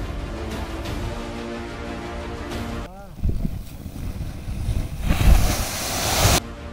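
Swollen river water rushing against and eroding a collapsing bank, with loud broadband surging and wind buffeting, intensifying into a heavy roar toward the end.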